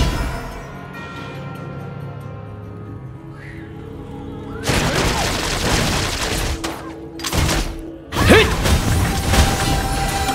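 Marco Polo fires rapid volleys of gunfire in the Honor of Kings battle game. Quiet game ambience gives way to dense, loud bursts of shots mixed with whooshes and impact crashes.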